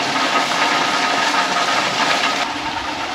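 Water rushes steadily as coffee beans are washed at a coffee processing spot in Daringbadi, a loud, constant broadband hiss with no pauses, no talking.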